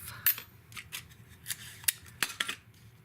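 Scissors snip through paper card pieces during handmade Mother's Day and birthday card making, a series of crisp, close cuts in an irregular rhythm with quiet pauses between strokes.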